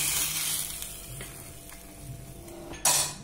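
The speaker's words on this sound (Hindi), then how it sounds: "अब इसमें तड़का लगा देंगे।" Spices tempered in hot oil for kanji vada, with asafoetida, bay leaf and red chilli powder, give a steady soft sizzle, then a sharp hiss burst near the end as the hot tadka hits the mix.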